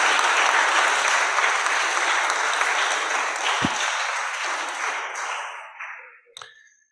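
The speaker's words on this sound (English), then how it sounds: "a big applause from the place to Hawa" An audience at a talk on terrorism and underdevelopment in Sub-Saharan Africa applauds loudly and steadily, then the clapping thins out and fades to silence, with a brief click near the end.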